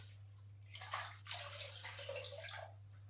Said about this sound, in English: And I just put this into the bucket of water, squeeze it out a couple of times.